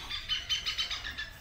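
A bird gives a quick series of bright, high chirps, about eight short notes in steady rhythm, fairly close and clear over a quiet background.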